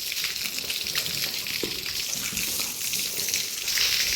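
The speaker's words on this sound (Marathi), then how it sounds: "हे तर बघा म्हशीला पाणी मारायचं चाललं, म्हशीच्या अंगावर" Water is sprayed over a buffalo's body as it is bathed, a loud, continuous hissing gush that stays close and steady throughout.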